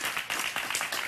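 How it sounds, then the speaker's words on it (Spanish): Audience applause for a guest at the end of a Spanish-language television interview, a steady wash of clapping lasting about a second with no voices over it. "Un aplauso para Alex Perelas."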